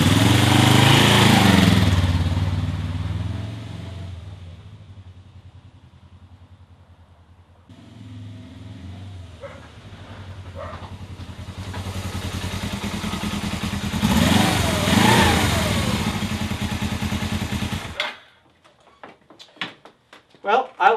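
A Suzuki GS500 motorcycle fitted with a new Motad muffler revs loudly near the start, drops to a lower idle, then climbs into a sustained deep throaty rev before cutting off, followed by scattered clatter.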